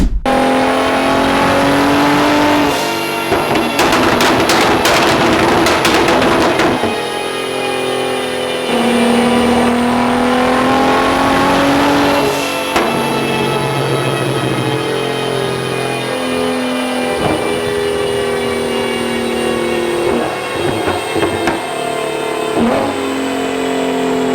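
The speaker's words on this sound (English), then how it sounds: "The car's now back to running correctly" A Nissan Skyline R34 GT-R runs loud and close in a workshop, its engine holding a steady idle and rising in several sharp revs and swells.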